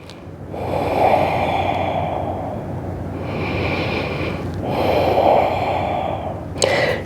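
Slow, deep breaths during a vinyasa yoga flow, close to the microphone, each long airy inhale and exhale swelling and fading over several seconds, with about two full breath cycles and no talking.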